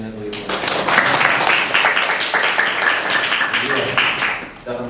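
A church congregation applauds and cheers for God, with dense, sustained clapping and raised voices filling the room for several seconds.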